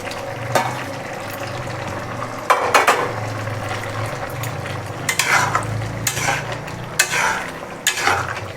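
Chopped garlic goes into a pan of mixed vegetables and Bangladeshi dry fish, then gets stirred, giving a steady sizzle broken by scraping spoon strokes about once a second, close and fairly loud, with no voices.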